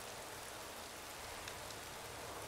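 Rain falls in the motorcycle racing game RIDE 3, a soft, even, continuous hiss of drops heard alone and fairly faint.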